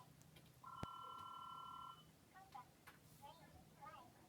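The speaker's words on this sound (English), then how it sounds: "Just get the phone already!" A telephone rings with a steady electronic double-tone trill lasting over a second, fairly close, followed by quieter room sound and a person talking.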